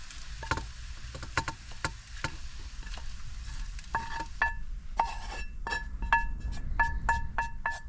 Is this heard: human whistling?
no